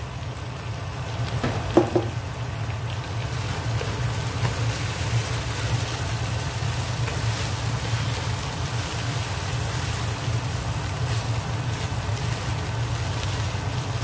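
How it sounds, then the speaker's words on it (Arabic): Steady sizzling of rice frying with meat and onion in a pan, a continuous crackle over a low hum, with a couple of brief clinks early on. "هلا عم قلي الرز مع اللحمة"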